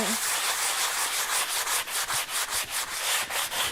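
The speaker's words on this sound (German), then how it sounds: "und jetzt schleifen Sie das einfach mit so einem Schleifschwamm ab" Painted wood being sanded with a sanding sponge: a steady, close abrasive rubbing with rhythmic back-and-forth strokes, loud and continuous with no talk.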